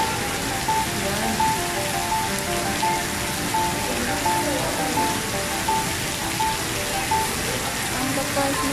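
Heavy rain pours steadily over National Stadium Singapore, a dense, constant hiss of drops hitting surfaces with wind mixed in, filling the whole scene without pause while occasional voices talk beneath it.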